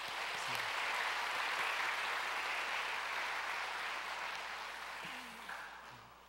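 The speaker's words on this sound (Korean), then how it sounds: "감사와 또 하나님께 영광의 박수 드리겠습니다" A church crowd applauds continuously at a graduation ceremony, steady and full, then tapers off slightly toward the end.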